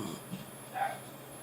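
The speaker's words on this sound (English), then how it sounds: "And my dogs are going nuts. You may hear that in the background." Dogs bark faintly in the background, a few short muffled yelps from another room over quiet room noise.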